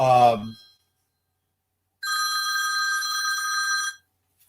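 A cell phone rings with a steady electronic tone for about two seconds, loud and close, after a short burst of a voice and a pause of silence.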